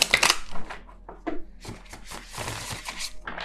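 Tarot cards being shuffled by hand in a quiet room, a few short irregular riffling and slapping bursts with soft pauses between them, close and fairly faint.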